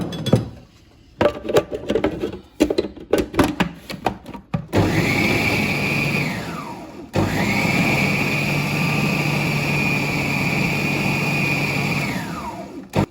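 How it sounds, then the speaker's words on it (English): Food processor grinding minced meat for seekh kebab: a few short rattling pulses first, then two long, loud, steady whirring runs with a high motor whine that winds down at the end of each. "add some of the minced meat in here so they can grind up together."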